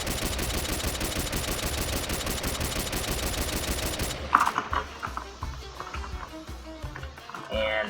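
Rapid rifle fire in the mobile shooter Pixel Strike 3D, a dense unbroken burst of shots for about four seconds, then scattered single reports and game noise.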